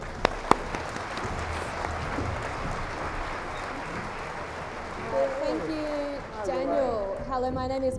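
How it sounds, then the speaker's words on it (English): An audience at an NDIS information session in Penrith claps steadily for several seconds; the clapping thins out and voices start speaking over it toward the end. "Let's give them a massive round of applause."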